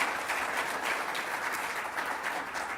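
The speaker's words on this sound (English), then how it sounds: "perhaps you could all give yourselves a round of applause for being awesome participants" A conference audience at a climate change plenary session applauds steadily, a dense wash of clapping holding even for the whole stretch without voices.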